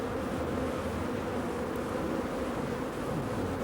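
Honeybees buzzing at an open hive, a dense steady drone from many insects close by, with no voices.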